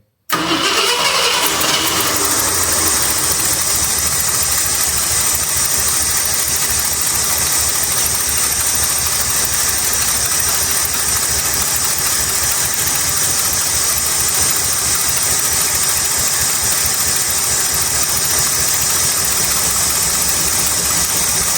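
A 1966 Ford Galaxie 500's 390 FE V8 with a swapped four-barrel carburetor and intake manifold cranks, catches and then runs steadily, a loud continuous engine roar close by with no talk.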